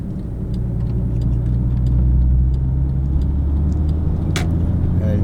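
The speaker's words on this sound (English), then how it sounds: "Not expecting to be running too much boost here, just gonna keep the revs low" A Porsche 911 Turbo 997 engine drones at low revs and light boost on an open road, a steady deep rumble from inside the car, smooth and unhurried throughout.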